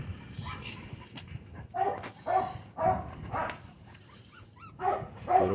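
Four-week-old American bully puppies whimper, yip and bark in short repeated bursts while waiting for food, close by, with a person talking among them.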